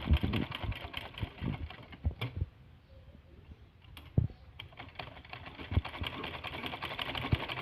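A home sewing machine stitches a blouse latkan (tassel) in bursts of rapid, even clicking, with a brief quieter pause midway before the stitching resumes close up.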